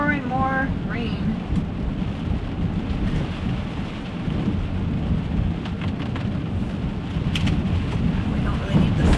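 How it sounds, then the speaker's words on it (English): Rain patters steadily on a car during a daily commute drive in wet weather, a continuous dense hiss with low road rumble and no clear speech. "Here we go, more and more rain."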